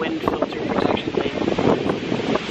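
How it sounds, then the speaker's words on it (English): Steady wind buffets the microphone on a beach, a loud continuous rumbling roar with rustling texture that holds from start to finish and never lets up. "It's a little bit windy, you might not be able to hear me great."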